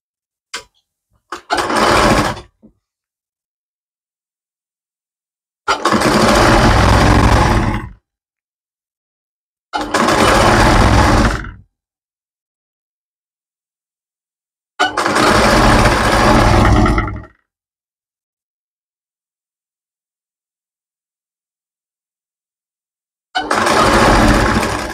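Sewing machine stitching fabric in four separate bursts of steady whirring motor noise, each lasting one to two seconds, loud and close with silent pauses between runs.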